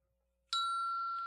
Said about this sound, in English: Everybody's ringing the bell here.